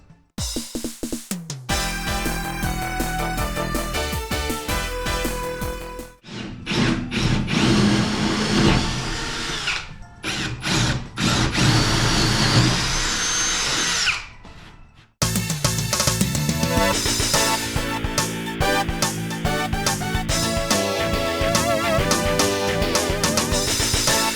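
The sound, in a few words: power tool cutting out a car splitter blade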